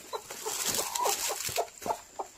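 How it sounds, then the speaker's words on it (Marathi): Hens clucking near a broody hen sitting on eggs: several short close clucks and low murmuring calls in an uneven rhythm, with no talking. "कोंबड्या बघा, हा का कोंबडी बसली अंड्यावर"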